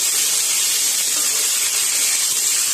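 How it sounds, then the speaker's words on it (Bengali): Boiled jackfruit peel hitting potatoes already frying in a pan, giving a steady, close, loud hiss of sizzling oil that holds evenly throughout with no talking. "আলুটা 1-2 মিনিট মতন ভালো করে ভাজা হলে দিয়ে দেব কাঁঠালের খোসার অংশটা"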